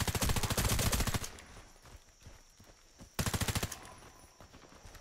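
Rapid automatic gunfire in the shooter game Warface, a loud sustained burst, then scattered quieter shots, then another loud burst, with no talk.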